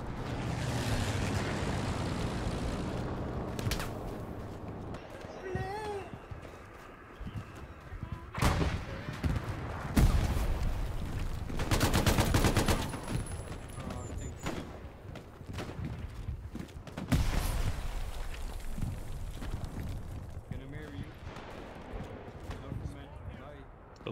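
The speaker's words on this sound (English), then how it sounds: "Oh, I'm being shot at." Gunfire in a World War II shooter set at El Alamein, with scattered single shots and heavier bursts, some close and loud, others distant, heard under frequent talk from a player.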